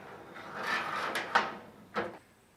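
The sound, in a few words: sliding a shed door frame piece into place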